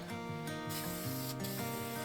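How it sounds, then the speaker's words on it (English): Satin polyurethane finish being sprayed onto a guitar body makes quiet hissing bursts over soft tonal background music. "So I'm just giving it a spray here."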